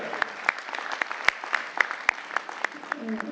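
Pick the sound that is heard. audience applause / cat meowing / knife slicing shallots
audience applause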